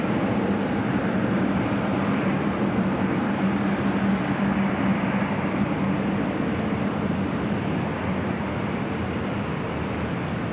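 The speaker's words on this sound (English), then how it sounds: "China Airlines, the 777 up next for arrival on 24 right." A China Airlines Boeing 777 arriving on runway 24 right at LAX, its engines a steady, broad roar that holds loud and continuous throughout without fading.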